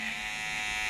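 Steady high buzz of electric hair clippers running through hair during a skin fade haircut, continuous and fairly faint, with no talking.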